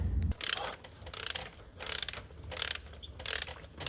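A Harbor Freight Quinn digital angle torque wrench ratchets in quick clicking bursts, about five distinct runs of sharp pawl clicks separated by short pauses, close and clear with no talking.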